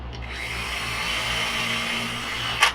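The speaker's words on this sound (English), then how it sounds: "I'm going to pre-drill because I don't want to crack that" A power drill pre-drilling screw holes into wood for a picture frame jig, one continuous whirring run lasting under three seconds, close and fairly loud, ending with a brief higher rattle.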